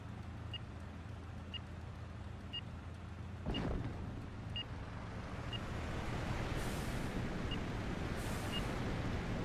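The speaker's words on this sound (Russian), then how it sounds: "Всегда эти взрывы." Distant explosions rumble through the Stalingrad airfield scenery in the flight combat game IL-2 Sturmovik: Battle of Stalingrad, a sudden deep boom joining a steady roar, followed by a broad rushing wash.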